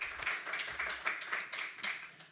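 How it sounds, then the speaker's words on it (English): Audience applause at a water and sanitation congress session honoring artists, a steady patter of hand claps with faint uneven peaks, fairly quiet and somewhat distant, no talking over it. "a big round of applause to all the artists, to all of you"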